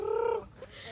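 Chickens let out one short, near, fairly loud call that fades quickly into quiet background, with no talking.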